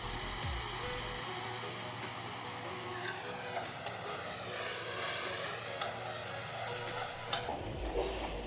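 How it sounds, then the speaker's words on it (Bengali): Brinjal frying in a pan with spices and chilli powder, a steady soft sizzle with occasional sharp clicks of stirring against the pan, close and fairly quiet, no voices. "এগুলো দিয়ে আমি ভালো করে কষিয়ে নেব।"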